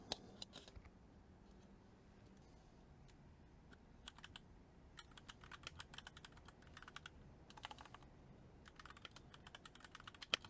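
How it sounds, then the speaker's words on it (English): Key presses on a Keychron keyboard connected by USB cable to a phone, a steady patter of light, crisp clicks with a few louder taps, close and alone with no talking. "Now I can type with a keyboard on my phone."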